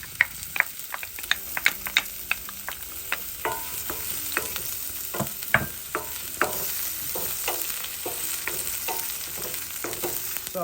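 Onions fry in oil in a pan, with a close, steady sizzle and frequent sharp taps and scrapes of a utensil stirring, and no one talks.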